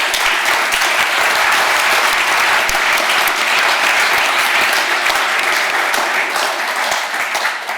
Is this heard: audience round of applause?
yes